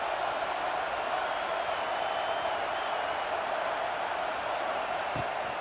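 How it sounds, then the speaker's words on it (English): A stadium crowd in the video game EA Sports College Football 26 gives off a steady, dense roar at a college football game with Florida Gators fans pressing on third down, holding constant with no pauses. "This crowd unhinged, trying to make sure the Gators don't back down on third down."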